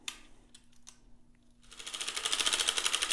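A circular knitting machine is cranked through rows of waste yarn, starting with a few scattered clicks, then building into a fast, rhythmic mechanical clatter that grows louder and steadier.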